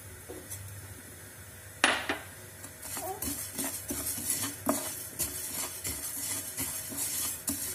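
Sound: spices and seeds being roasted and stirred in a pan

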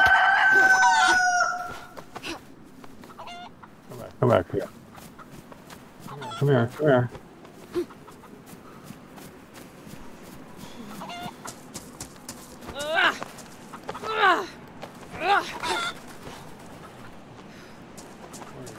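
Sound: chicken clucking in DayZ video game

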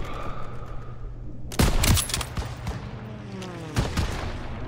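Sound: gunfire in the video game Call of Duty WWII

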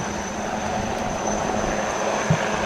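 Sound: UH-3H helicopter flying during Navy day demonstration

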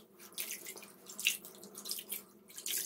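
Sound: water rinsing off legs during a pedicure

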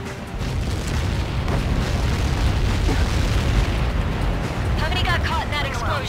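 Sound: large explosion in video game Ace Combat

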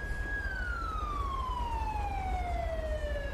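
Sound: police car siren in video game GTA 5

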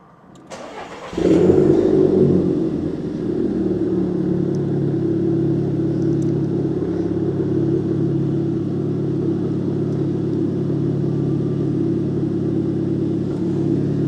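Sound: Volkswagen Golf GTI car engine running

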